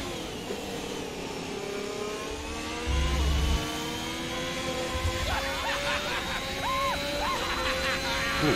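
Race car engine in the F1 2021 video game on a wet Jeddah circuit, a continuous high whine shifting pitch as it revs and changes gear, with a brief low thump midway and no talk.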